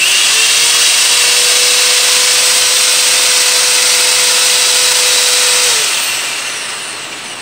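Electric drill spinning steadily while driving a homemade linear actuator, a loud close whine held for several seconds before winding down as the trigger is released, with no talk.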